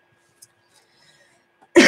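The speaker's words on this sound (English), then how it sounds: "Oh my gosh, bit of a cough." A single sudden cough bursts out near the end after near silence, loud and close to the microphone.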